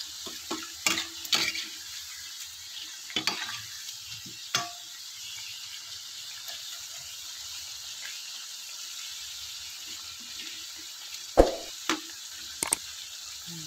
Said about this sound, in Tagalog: Haluin lang po natin para kumapit yung asukal.